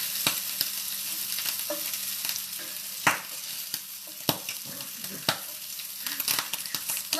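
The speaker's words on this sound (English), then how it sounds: "Popping bacon." Bacon frying in a pan, with a steady sizzle and sharp intermittent pops and spatters scattered throughout, fairly close.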